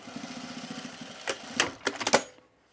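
Sewing machine stitching D-rings onto a small trouser belt, a quick rhythmic mechanical chatter followed by several sharper clicks and clunks before stopping abruptly into silence.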